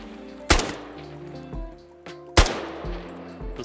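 Automatic rifle fire at a shooting range in the video game Squad, Turkish Land Forces rifleman with iron sights: two loud, sharp bursts of close shots, each followed by a ringing tail and lighter echoing reports.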